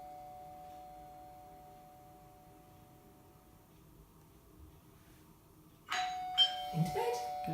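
A doorbell chime rings with a sustained electronic tone that slowly fades during a dog training session at home, then a person talks and moves about nearby.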